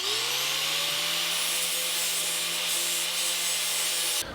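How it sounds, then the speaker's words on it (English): An angle grinder working down a weld on the rusty body metal of a 1949 Chevrolet gasser, a loud, steady high-pitched whine and grinding rasp close by, cutting off abruptly near the end. "What you're supposed to do is grind the weld, not the metal"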